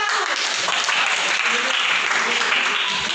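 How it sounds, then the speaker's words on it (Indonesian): A classroom of students claps for the first-place winner of a poetry-writing lesson, a dense, steady burst of applause that stays loud and even for about three seconds. "Kasih tepuk tangan dari juara 1."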